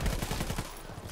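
Rapid gunfire from a weapon in Call of Duty WW2 Zombies, the Groesten Haus map, rattling off as a quick burst of close, evenly spaced shots.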